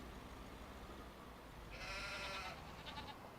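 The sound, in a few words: sheep bleating in the video game Farming Simulator 25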